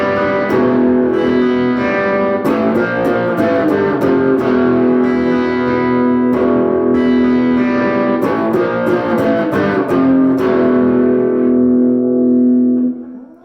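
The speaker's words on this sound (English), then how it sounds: "See if we can get maybe a little bit of black metal tones out of it" Electric guitar played through a Peavey Rage 158 amp with black metal distortion, loud and continuous for over twelve seconds: sustained fuzzy chords with repeated picked strikes and changes, then a brief fade at the end, with no voices.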